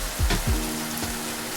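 Onions frying in a pan after browned beef, a soft steady sizzle with a couple of low thuds as they are tipped in and stirred, close and without talking.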